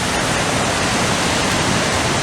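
A creek rushes through a tight, sheer-walled canyon, producing a loud, steady broadband roar of water close by with no voices.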